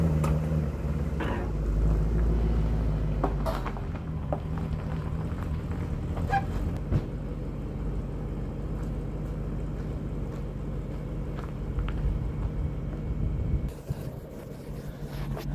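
A Volkswagen Phaeton being driven down off ramps, a low engine rumble with wind buffeting and occasional clunks and knocks as it rolls, fairly close and steady throughout.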